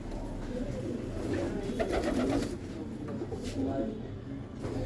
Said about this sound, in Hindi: पटियाले कबूतर लाजवाब